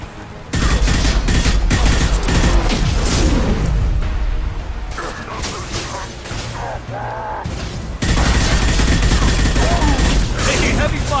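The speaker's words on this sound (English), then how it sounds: "Taking heavy fire!" Heavy gunfire in a Mass Effect 2 firefight: loud, continuous bursts of weapon fire with booming impacts and explosions, a dense barrage lasting throughout, with voiced combat callouts briefly heard beneath.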